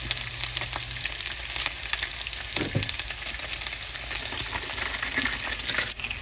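Bacon frying in a pan makes a steady, fairly loud sizzle with crackling spatters throughout, plus a brief low clunk near the middle.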